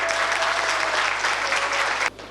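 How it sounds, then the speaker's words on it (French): Audience applause for the models at a fashion show at a residence's 50th anniversary celebration: dense, steady clapping from a crowd that stops abruptly near the end, with no voices. "Je vous demande donc, avant qu'ils n'entrent en scène, de bien vouloir les applaudir très chaleureusement pour les encourager."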